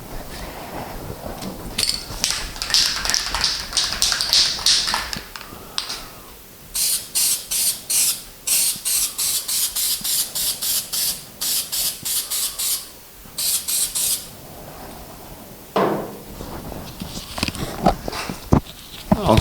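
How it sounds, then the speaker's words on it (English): Spray gun laying epoxy primer onto a Moke car body, heard as close hissing bursts that come in quick repeated passes, with quieter gaps between them and a few bumps and movements. "So we'll give that a bit of primer and then just see how it goes."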